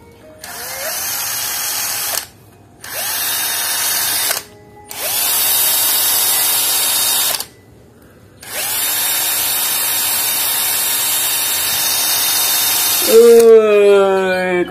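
An electric drill whirs in four loud bursts separated by short pauses, a steady high-pitched motor whine, followed by a brief voice at the end.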